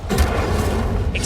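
A fire spell cast in the video game Hogwarts Legacy, one short loud booming whoosh with a low rumbling body, close and dense, lasting about a second.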